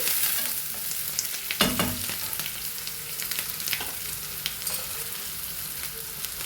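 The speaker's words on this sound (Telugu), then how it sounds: "ఉల్లిపాయలు కొంచెం వేగాలండి." Onions sizzle and fry in a pan for a Kerala-style okra stir-fry. A steady hiss and crackle sound close up, with a brief stirring clatter partway through. No voices are heard.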